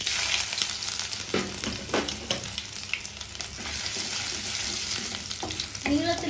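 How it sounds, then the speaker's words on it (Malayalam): Mustard seeds and ginger frying in hot oil for a prawn theeyal: a continuous sizzle with scattered crackles and pops, plus a few stirring scrapes throughout. "കടുക് പൊട്ടിത്തുടങ്ങിയിട്ടുണ്ട്."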